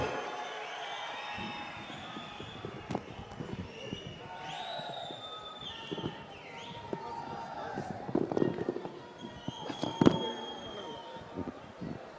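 A large crowd at a Rahul Gandhi election rally in Raichur claps and cheers, with scattered sharp claps and crowd noise building and peaking in loud bursts over the closing seconds.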